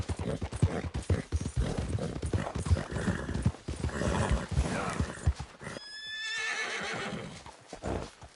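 Horse hooves clip-clop in a rapid, steady rhythm in Red Dead Redemption 2, close and loud, followed by a clear neigh near the end.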